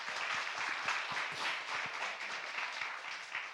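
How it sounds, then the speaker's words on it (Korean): A church congregation applauds four young people with steady, even clapping from many hands that continues throughout. "이 일을 먼저 세워진 자가 되어서 감당해 준 4명의 청년들에게 우리 감사하다고 격려하는 박수를 좀 드릴까요?"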